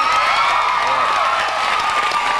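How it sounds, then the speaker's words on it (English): Studio audience of a late-night television show clapping and cheering steadily throughout, a dense, loud wash of applause with some whoops mixed in. "Yeah, you can clap."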